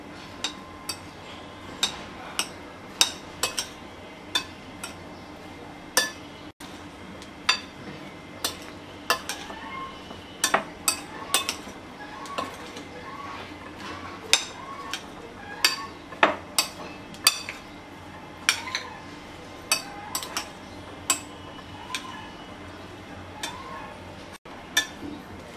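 Chickpea chaat being stirred together with chopped coriander leaves and lemon juice, a steady run of sharp spoon-on-bowl clinks and ticks close by, repeating irregularly throughout with no talk.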